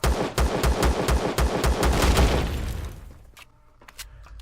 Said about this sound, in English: these turrets do follow you and shoot at you